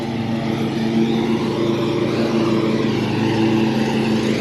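A lawn mower engine drones steadily and loudly close by outdoors, a continuous rough hum with no talk.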